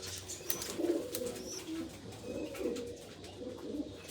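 Pigeons coo softly in a few low, throaty, rolling phrases, fairly close and quiet against a faint background.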